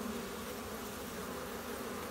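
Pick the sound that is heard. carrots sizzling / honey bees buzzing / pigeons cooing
honey bees buzzing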